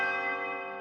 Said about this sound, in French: Au 12e coup de cloche, la vieille horloge du château se remit en route